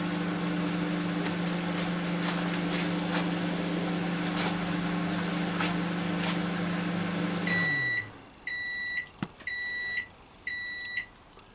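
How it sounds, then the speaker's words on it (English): A microwave oven cooking chicken hums steadily, then the hum winds down and it gives a series of four high electronic beeps. "the chicken is cooking away in the microwave"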